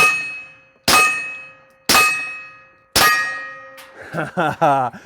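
Three loud 9mm pistol shots from a PSA Dagger ring off a steel plate target, each a sharp crack followed by a long metallic ring, spaced about a second apart, then a brief voice follows.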